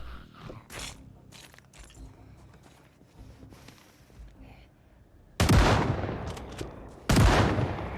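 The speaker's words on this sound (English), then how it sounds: "Oh my god, I shot a gun." A gunshot in a zombie video game rings out as two sharp, loud blasts with ringing tails late in the clip, following quieter scattered game sounds.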